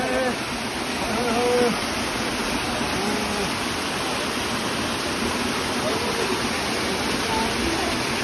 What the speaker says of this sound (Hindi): लो जी झरने में मजा आ रहा, फुल एंजॉय